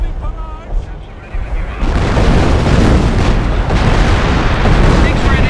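Artillery barrage in Company of Heroes, British campaign at Hill 112 near Caen: a dense, continuous roar of booming explosions that swells loud after a quieter opening with faint speech, rumbling on without pause.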